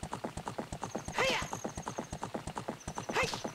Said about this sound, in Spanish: Vamos, caballito.